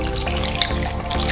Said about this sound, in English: Just gonna pour that right over the bread.